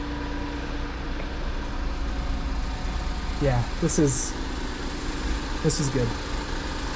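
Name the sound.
1999 Mitsubishi Minicab engine idling after oil change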